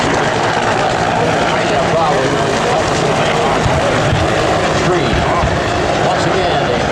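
A Bell UH-1 Huey helicopter departs during a Vietnam air rescue reenactment at an air show, its steady rotor and engine roar loud and continuous throughout, with a public-address voice speaking over it.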